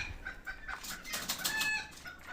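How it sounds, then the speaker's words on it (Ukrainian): Soft clucking and chirping from a group of mixed-breed and bantam chickens and chicks, steady and fairly quiet, with faint rustling of wings among them. "Всі курчатка, і мішані, і бентамки"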